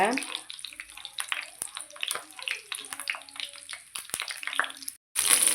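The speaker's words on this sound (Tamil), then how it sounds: "இந்த எண்ணெயிலே இந்த கத்திரிக்காய் நல்லா வதக்கி எடுத்துக்கோங்க" Eggplant sautéing in oil in a pan for a Tamil oil eggplant curry, a steady crackling sizzle with scattered pops, interrupted briefly near the end; a person talks over it.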